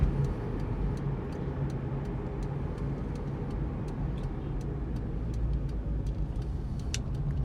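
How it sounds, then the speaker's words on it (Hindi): Right turn indicator of an automatic car ticking in a steady, even rhythm inside the cabin, heard over a continuous low road and engine hum. "यहाँ पे हमने राइट का इंडिकेटर लगाएंगे।"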